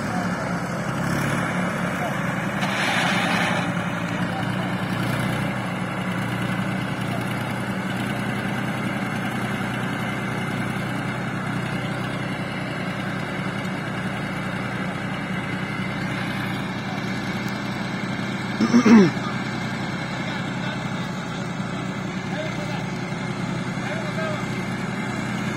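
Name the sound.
tractor engine running while reversing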